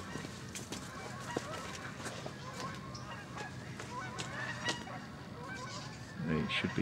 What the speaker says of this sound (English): I just hear the morning flight of geese going over.